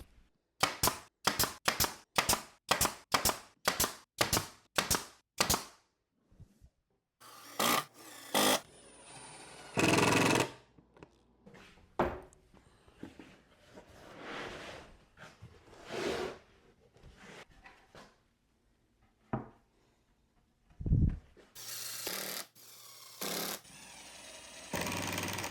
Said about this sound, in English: then I'll tack the parts in place and use screws for a stronger connection